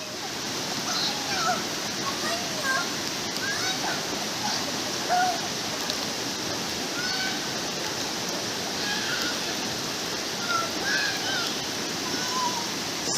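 Steady, broad rush of a forest waterfall near Mumbai flowing strongly after a rise in water level, a continuous even roar throughout with faint bird calls over it.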